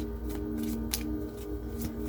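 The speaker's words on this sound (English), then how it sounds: "I do like to shuffle again in front of the camera" Tarot cards riffled and shuffled by hand at close range, a continuous papery flutter with a few sharper snaps, steady and fairly soft, no talking.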